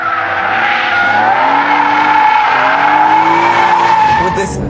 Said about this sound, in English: kick the tail out, and then just power slide it out of the corner